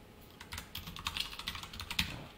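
Quiet, fast typing of HTML and CSS code on a computer keyboard, a close run of irregular key clicks with no talking.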